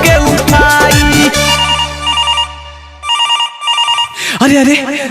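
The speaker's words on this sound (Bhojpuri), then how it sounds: "केकर तो फोन आई लो।" A telephone ringing in a Bhojpuri comedy scene, an electronic ringtone with repeating melodic tones that sounds loud and close, partly over background music and talk.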